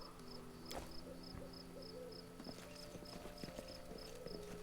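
Horse hooves clip-clopping in the Pathfinder: Kingmaker video game, soft steady hoofbeats amid a chirping cricket and insect ambience with a faint repeating high tone, quiet and without speech.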